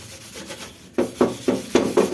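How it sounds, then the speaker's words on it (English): A very dirty gas stove is scrubbed hard with a handheld scrubber, pressed down with force: a soft rubbing opening, then about five loud, rhythmic rasping strokes, close and steady. "Using a lot of force, holding this and pushing down with the scrubber"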